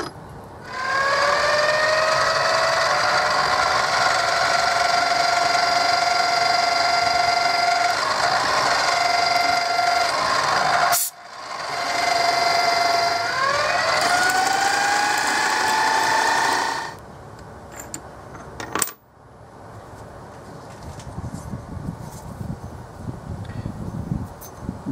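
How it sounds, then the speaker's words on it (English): Center drilling and then drilling heat-treated 4140 steel hoist pins on a machine: a loud, steady, tonal whine with shifting pitches, a brief break near the middle, then quieter scraping noise after the cutting stops. "So it's just a combination of center drilling and then drilling."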